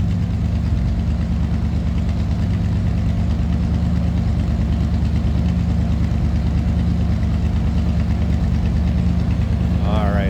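A 1963 Ford Thunderbird two-door hardtop engine idles steadily while warming up, a close, even, low rumble that holds constant throughout with no voices.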